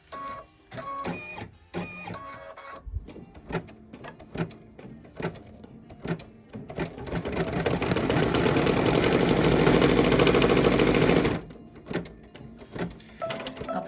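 Computerized embroidery machine stitching a Be Mine design in red thread, with a rapid mechanical chatter of the needle and some clunks and pauses at first, then a steady loud whirring run of stitching that stops suddenly before lighter clicks resume.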